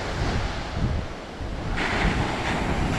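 Ocean surf at Saquarema surf beach rolls and breaks continuously, a broad steady wash of water with heavy wind buffeting the microphone throughout and no voices.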